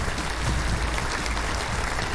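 Dense, continuous crowd applause in a space-themed video game, loud and close with no breaks, a thick wash of many hands clapping at once.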